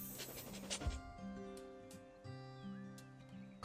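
A corgi pants in the farming sim Big Farm Story, its quick, soft breaths running through the clip beneath steady, melodic game music.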